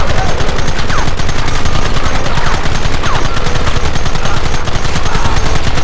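Sustained, loud rapid gunfire from a Red Dead Redemption shootout, dense overlapping shots and bursts rattling continuously for several seconds with no pause.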